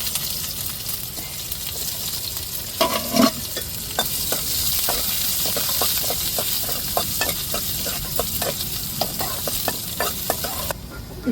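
Onions tossed into hot oil with fenugreek seeds as tempering for a dried fish curry, steady loud sizzling and crackling with a clatter near the start and frequent small pops throughout.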